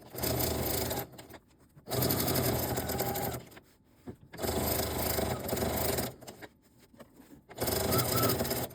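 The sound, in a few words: sewing machine with walking foot stitching binding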